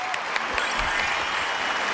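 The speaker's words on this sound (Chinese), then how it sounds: "来，咱们给李志高一点掌声。" A studio audience at a Chinese TV job-hunting show breaks into steady, dense applause, a continuous wash of many hands clapping at moderate distance for the whole stretch.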